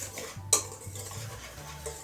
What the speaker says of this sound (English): we're just going to give this a little whisk until it's fully mixed